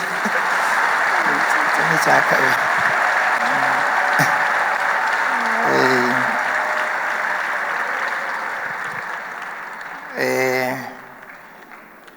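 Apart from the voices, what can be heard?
congregation applauding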